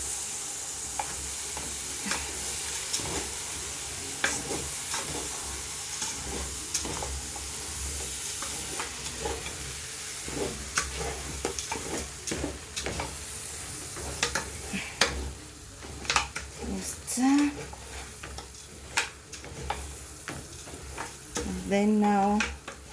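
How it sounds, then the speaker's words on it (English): Pilau beef sizzles and fries in a pot while a utensil stirs it, making scraping strokes against the metal under a constant crackling hiss, close and fairly loud throughout. "Then you stir."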